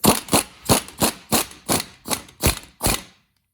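An air impact gun running up the pinion nut on a 2004 Ford F150 rear differential, nine loud, evenly spaced hammering bursts close by, then silence.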